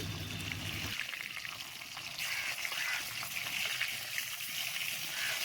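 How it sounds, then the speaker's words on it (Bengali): A fish head fries in hot oil in a home kitchen for a fish curry, a steady close sizzle and crackle, after a brief lower rumble at the start. "মাছের মাথা ভেজে নিচ্ছি"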